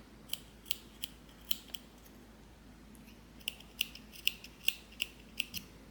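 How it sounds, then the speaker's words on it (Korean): Small thread-snipping scissors trim yarn on a handmade mesh card wallet, giving a series of crisp, close metallic snips in two quick bursts separated by a brief pause, with no talking. "먼저 가위로 한번 정리를 할게요."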